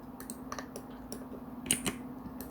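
Computer keys and mouse buttons are pressed in short, irregular bursts while a 3D clothing model is edited in software: quiet, close clicks with a brief cluster near the end and no voices.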